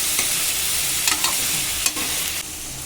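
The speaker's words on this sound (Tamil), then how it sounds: "இதை நல்லா நம்ம வதக்கிக்கலாம்" Onions being sautéed for tomato rice hiss loudly and steadily in a pan, with a few spatula scrapes and stirring knocks cutting through, very close and with no voices.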